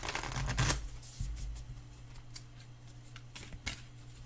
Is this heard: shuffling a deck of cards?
yes